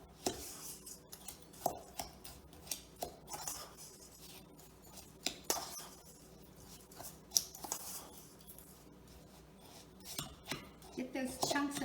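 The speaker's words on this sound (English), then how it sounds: "Get those chunks of brown sugar chopped up." Brown sugar chunks being chopped and broken up in a mixing bowl together with white sugar, heard as a steady run of close, crisp tapping and scraping knocks, with several sharper clinks standing out.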